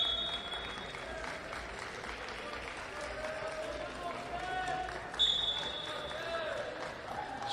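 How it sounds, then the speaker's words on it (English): A crowd in an arena applauds at a university karate championship: a soft, distant, continuous patter that runs steadily under a commentator's voice. "Straight onto the mat as Mosum takes the applause, generous applause."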